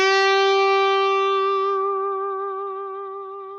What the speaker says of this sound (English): slide into a note and let it sit there for a second and then start vibratoing